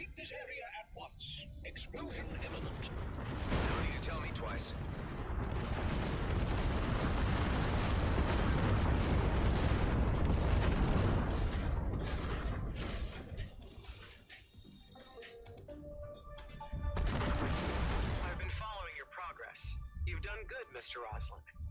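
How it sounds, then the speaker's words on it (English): Explosions from the space-combat video game Everspace 2 build into a long, loud, rumbling blast lasting many seconds, then a second burst follows amid crackling debris and game effects, with voices speaking over parts of it. "Vacate this area at once. Explosion imminent."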